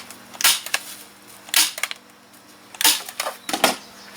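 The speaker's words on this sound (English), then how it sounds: "is the stapling noise doing your head in yet?" A staple gun drives staples into pond cover material, giving sharp close snapping clacks in irregular pairs and clusters with brief pauses between them.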